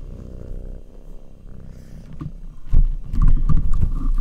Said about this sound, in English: Let everybody hear you purr.